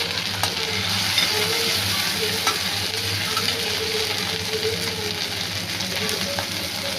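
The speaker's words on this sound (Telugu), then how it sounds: "ఇప్పుడు లైట్గా జింజర్ గార్లిక్ పేస్ట్ వేసుకోవాలి. దీన్ని కూడా బాగా మిక్స్ చేసుకోండి" Ginger garlic paste and half a tomato fry in a pan for masala oats khichdi, a loud, continuous sizzle with scraping stirs throughout and no voices.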